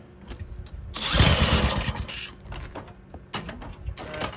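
Start attempt on a Predator 212 small engine fitted with a 22mm carburetor and the governor removed: a short burst of mechanical clatter and whir, then quieter rattles and a few brief cranking bursts near the end.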